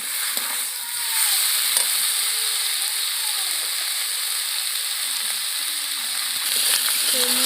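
Chicken skin and chopped cabbage fry in a wok (kadai) with a steady, fairly loud sizzle that runs through the whole stretch, with a few faint clinks and scrapes from stirring.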